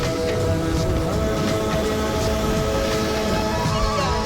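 Rain falling at Ganpatipule on the Konkan coast, a dense, steady patter of drops on surfaces that stays loud and unbroken throughout.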